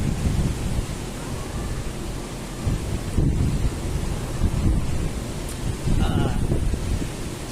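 Strong, gusty wind roars across the microphone at Morong beach, Subic, during a storm at high tide, with a dull rumble of surf underneath; loud and continuous, swelling in waves.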